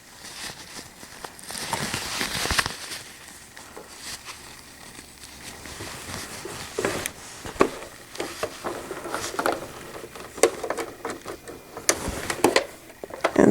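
A sewing machine stitching shut the ends of a cloth diaper cover with gussets, an uneven run of rapid mechanical rattling in short bursts and pauses, close up, with soft handling noises of fabric.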